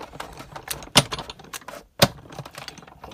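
A die-cutting machine presses paper through a cutting die, giving irregular clicks and crunching pops with two louder snaps, close and alone.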